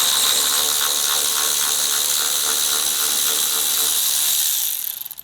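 Loud, close clicking of a ratchet working bolts during a Whipple supercharger install on a 2023 Chevrolet Silverado, a fast steady run of pawl clicks that stops near the end.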